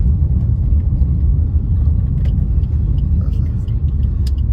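Dense, steady road rumble from many idling and creeping vehicles in a traffic jam near Navi Mumbai International Airport fills the air, with faint scattered clicks and horn-like blips above it.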